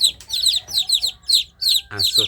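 High, rapid peeping of several native village chicks in a box, repeated in quick bursts close by, with a lower clucking hen call joining near the end.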